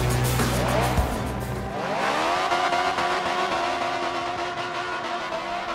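A race car slides through slaloms at Daytona, engine revving and whining through shifting pitch as it slides and accelerates, loud and continuous with no voices.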